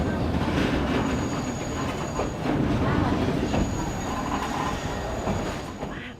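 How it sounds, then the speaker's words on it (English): A Chongqing monorail train runs through a residential building with a station built inside it, giving a loud, steady rumble with faint wheel squeal that holds throughout before easing off at the end. "In Chongqing, a monorail line runs directly through a residential building, with a station built inside the structure itself."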